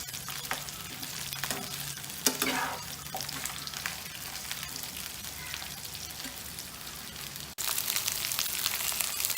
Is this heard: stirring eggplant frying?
yes